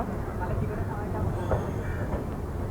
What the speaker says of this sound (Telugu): దగ్గర నుంచి ట్రైన్ పోతుంటే ఎలా ఉందో